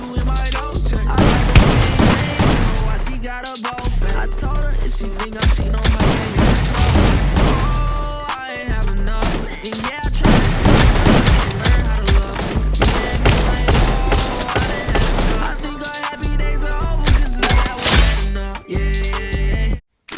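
Sniper rifle fire in the mobile shooter Free Fire, using the Sniper Ice Bones skin: loud, close shots crack repeatedly in steady bursts. Music plays underneath, and the shots keep going across the whole stretch.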